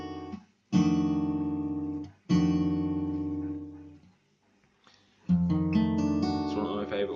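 Jazz blues guitar chords, a voicing close to a D shape, strummed three times with a pause between each; every chord rings out full and sustained, and the last one is rolled with brighter upper notes, with no talking.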